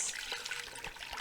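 Hot water poured into the bowl of a bread dough mixer while making French bread, a steady close trickle and splash of liquid running for the whole moment with no talk.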